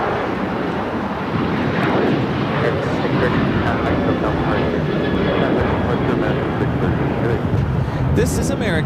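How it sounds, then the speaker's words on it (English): An American Airlines Boeing 737-800 takes off at LAX, its jet engines roaring loud and steady throughout under wind noise, with faint voices in the background. "This is American Airlines 613 taking off to Chicago on the 737-800."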